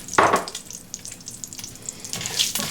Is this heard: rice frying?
yes